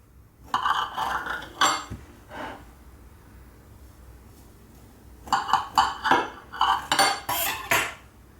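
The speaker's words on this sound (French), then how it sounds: "Alors, je vais couper un morceau." A knife cuts a piece of yogurt cake on a plate, making sharp metallic clinks and scrapes against the dish in two clusters separated by a quiet pause, close by, with no speech.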